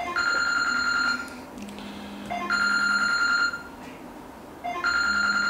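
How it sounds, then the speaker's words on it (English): A mobile phone rings with a bright electronic ringtone, three repeating tonal bursts separated by short gaps, loud and steady, with faint talk underneath. "sorry about my phone"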